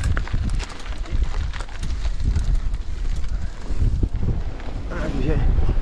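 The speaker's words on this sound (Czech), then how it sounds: "podfukuje teda brutálně" Strong gusty wind buffets the microphone on a World Cup downhill mountain bike track, a continuous low rumbling roar with surging gusts, mixed with rattling from the descent.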